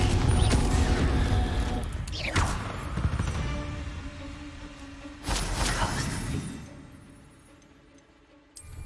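Spell combat in the Hogwarts Legacy video game, with a Confringo explosive spell cast amid a string of rapid magical blasts, whooshes and crashes layered over a loud, continuous game soundscape.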